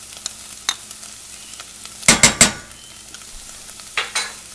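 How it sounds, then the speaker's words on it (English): Tomato paste is stirred into browned onions and garlic in a pan, with a soft sizzle beneath a few sharp spoon scrapes and clanks clustered in a quick burst, then another pair. "And I'm going to stir that in."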